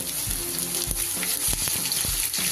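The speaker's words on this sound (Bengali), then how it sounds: "রসুন আর পেঁয়াজটা খুব ভালো করে ভেজে নেব।" Crushed garlic and two chopped medium onions frying in oil, a steady bright sizzle with low rhythmic thumps and scrapes of stirring every half second or so, close and fairly loud.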